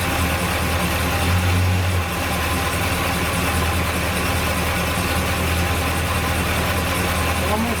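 The engine of a 1970 Buick Wildcat idles steadily with a newly fitted alternator, giving a loud, close, continuous rumble with an even tone from start to finish.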